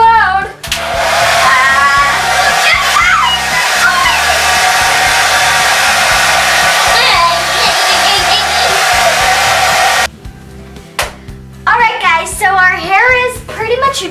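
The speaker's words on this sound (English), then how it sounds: "Now it's time to dry your hair." A hair dryer drying hair roars loudly and steadily for about ten seconds, then cuts off, with kids' voices chattering over and after it.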